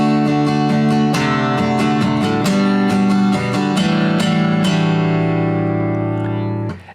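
Acoustic guitar strumming four descending walk-down chords from a song, close and clear, with steady strums ringing out and a final chord left to decay.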